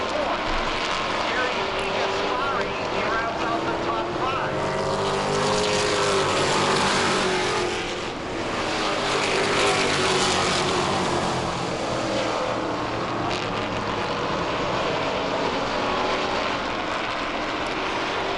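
Race cars in the closing laps of a 50-lap oval race in New England, a continuous roar of engines with passing surges, broad crowd-like wash and some speech mixed in.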